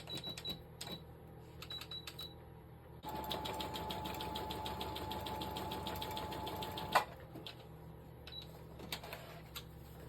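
A sewing machine stitches a decorative pattern on a crinkle coffee bag, a steady, fairly quiet mechanical whirr running for several seconds after soft handling clicks, with a single sharp click near the end.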